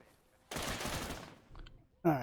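Rapid bursts of gunfire in the military shooter ARMA 3 crackle in a dense volley lasting about a second, then a quieter burst and a sharp final crack, with a voice heard over the shots.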